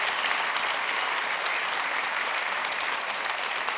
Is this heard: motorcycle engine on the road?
no